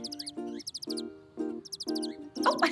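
Birds chirp in quick bright bursts over a steady, tonal musical backing. The twittering comes in several short clusters, fairly close and clear, with no talking.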